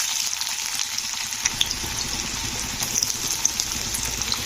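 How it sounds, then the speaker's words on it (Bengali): Dried red chillies fry in hot oil in a wok, a bright steady sizzle with scattered small pops, close and loud with no talk. "শুকনো লঙ্কাগুলো একটু ভাজা ভাজা করে নিতে হবে"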